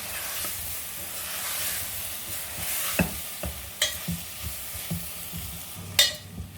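Potatoes and cauliflower stir-fried with spices in a pan for Sindhi-style aloo gobi, a soft steady sizzle broken by scraping stirs and clinks of the spoon against the pan, with no voices.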